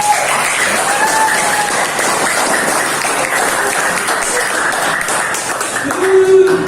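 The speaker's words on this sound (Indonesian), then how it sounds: "Terima kasih tepuk tangan." A classroom of students claps together in sustained applause, dense and steady throughout and swelling slightly toward the end, with voices mixed in beneath the clapping.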